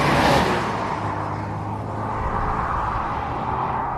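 A 2025 Mazda3 manual hatchback drives along with a steady engine rumble and road whir, slightly louder at the start and then holding even, with no talking.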